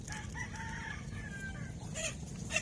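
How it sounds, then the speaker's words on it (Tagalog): Chickens in a rural provincial yard cluck and crow, producing short bursts of clucking and a drawn-out crowing call near the start, with sharper squawks late in the clip over steady low background noise. "Oh, may mga manok."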